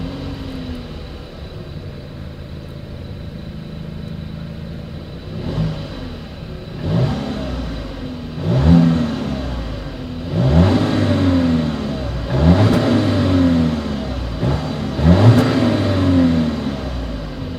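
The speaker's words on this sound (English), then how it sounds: "As always, here is that exhaust clip." Exhaust of a 2020 Volkswagen Atlas Cross Sport revving from idle, with several sharp rises and falls in engine pitch that grow louder and closer through the clip, heard alone without talk.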